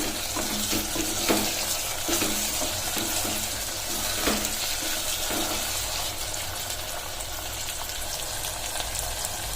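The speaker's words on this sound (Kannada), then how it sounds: "ಸೊ ಇದಕ್ಕೆ ಈಗ ಗೋಬಿ ಹಾಕೋತಿದ್ದೀನಿ" Cauliflower pieces fry in a pan for masala rice, giving a continuous sizzle with repeated scraping stirs at a regular pace, close and fairly loud, with no talking.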